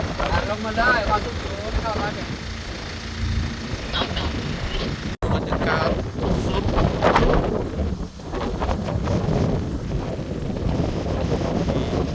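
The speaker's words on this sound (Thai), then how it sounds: "ดูลมแรงมากครับ" Strong wind gusts at a mountain viewpoint on the road up Khao Krachom in Suan Phueng, Ratchaburi, roaring and buffeting the microphone continuously while people talk underneath.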